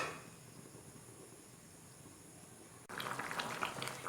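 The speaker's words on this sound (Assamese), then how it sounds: "এয়া মোৰ কাৰীখিনি উতলি আছে" Chicken curry with potatoes simmering in a covered pot over a medium flame, a faint low bubbling that turns brighter and busier with crackly pops toward the end.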